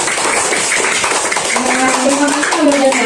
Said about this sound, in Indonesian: Teman-teman boleh tepuk tangan buat kelompok Wildan.